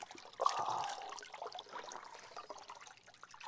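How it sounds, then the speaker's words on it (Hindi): Cold spring water flowing from a mountain spring in a chilly village, a steady soft trickle and splash that swells briefly near the start, then settles into a faint continuous flow. "ये चश्मे का पानी आ रहा है"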